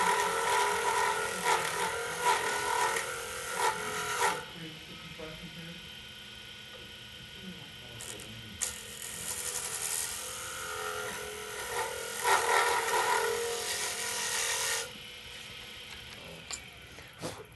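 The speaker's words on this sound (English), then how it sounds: "I'm going to make a cut over here, the width of my tool" A woodturning lathe tool cutting a wooden bangle, a steady buzzing whir with scraping bursts that stop and restart, heard under someone talking.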